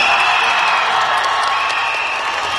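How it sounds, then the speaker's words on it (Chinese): A large audience applauds at a concert in Shenzhen, a dense, even wash of clapping that stays loud throughout. "掌声。"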